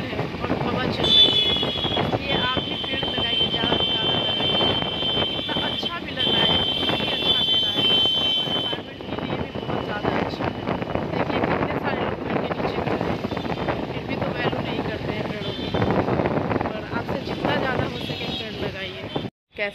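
Wind blows along a tree-lined road in Bihar on a hot summer evening, a steady buffeting rush over the microphone that runs under a person talking throughout.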